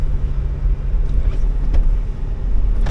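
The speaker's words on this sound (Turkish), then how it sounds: "Bundan sonra arabayı park edeceğiz" A car rolling in to park at the entrance to Cibodas in Indonesia, a close, continuous low engine rumble with a few faint knocks and no talking.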